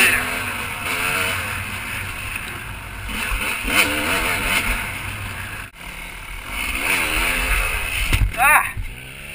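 A motorcycle ridden slowly on a hard-packed dirt road, a steady engine drone with wind rumble and rising and falling revs; a rider's voice is heard talking over it.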